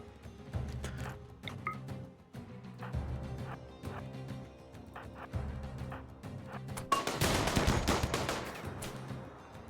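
Revolver gunfire in the video game RimWorld, scattered sharp shots amid game noise and music, growing denser and louder toward the end.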